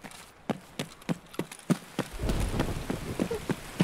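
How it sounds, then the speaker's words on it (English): Heavy rain pouring in Escape From Tarkov, a steady hiss of rainfall with sharp, regularly spaced drops or knocks tapping through it and a low rumble swelling midway. "It is absolutely pouring down rain."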